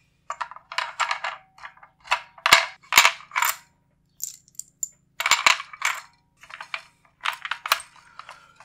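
Rifle rounds clicking one after another into an AR-15 magazine with a Maglula loader: a quick series of sharp metallic snaps and clacks in bursts, close and fairly loud, with no talking.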